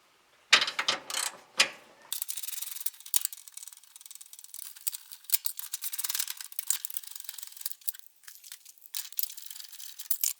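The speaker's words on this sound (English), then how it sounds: "Alright, so let's go ahead and get the battery tray out." Hand tools working the battery tray loose on a 1960 Rambler American with a 196 flathead engine: rapid ratchet clicking in bursts, with metallic clanks and scraping between them, loud and close with no talking.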